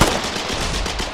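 Rapid automatic gunfire in the game Foxhole rattles in a dense burst of closely spaced shots, loud and near, with no talking.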